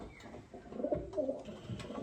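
Young pigeons coo close by in a few soft, low, throaty bursts with short pauses between them, and nothing else is heard.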